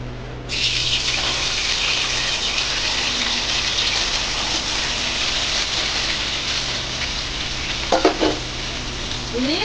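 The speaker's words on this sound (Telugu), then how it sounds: "ఫస్ట్లో అయితే పన్నీర్ ఫ్రై చేస్తా." Paneer pieces frying in a pan for palak paneer give a loud, steady sizzle that holds nearly unbroken throughout, with a couple of brief scraping stirs near the end.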